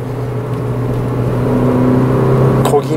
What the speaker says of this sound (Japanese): 踏むとちょっとこうエンジン音が